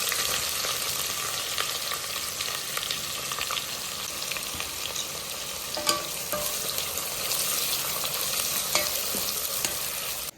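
Finely chopped onion sizzling in oil in a frying pan, a steady close hiss with occasional scraping clicks from stirring.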